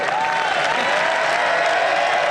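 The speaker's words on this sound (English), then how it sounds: "each and every one of those green-jacketed members stands as one to applaud. The crowd's all around applauding as well" Dense, steady applause from a large golf crowd and green-jacketed club members at the Masters after a speech, sustained and even throughout with a faint tone running underneath.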